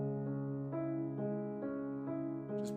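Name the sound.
piano played very softly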